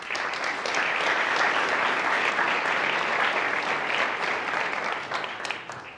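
Dense, sustained applause from a conference audience at a Kubernetes and AI event, a full wash of clapping that holds steady and then thins toward the end.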